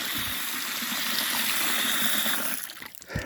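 Water runs steadily from a garden hose onto raked-up horse manure for compost, a continuous close hiss and splash that tapers off and stops near the end.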